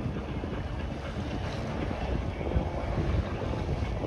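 Wind buffets a sailboat moving at about five knots close-hauled at sea near Royan, a loud continuous rushing roar with water washing against the hull, and no voices.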